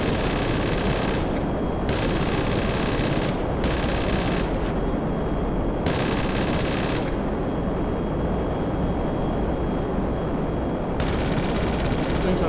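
Sustained heavy automatic gunfire in GTA 5 during flight aboard a Millennium Falcon-style ship, a dense continuous roar with rapid bursts that start and stop, loud and unbroken throughout.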